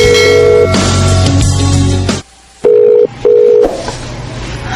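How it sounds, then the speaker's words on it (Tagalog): A phone line plays repeated ringback tones while a cellphone call goes unanswered, steady beeps followed by a short silence and two shorter tone bursts, loud and close with no talk. "Sige lang ring ang cellphone, pero dilikid mo tubag."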